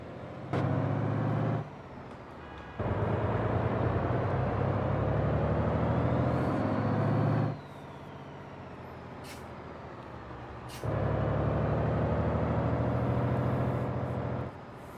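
A 500-horsepower truck with a Gavril 15.2-liter single-turbo straight six in a driving video game, its engine droning loud and steady, easing off around 2 s and 8 to 11 s and then pulling hard again.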